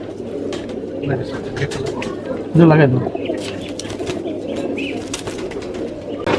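Imported Motiwale pigeons, a Kuwaiti bloodline, coo in a loft with a low, steady murmur throughout and one louder, nearer burst of cooing midway, under a man's brief speech.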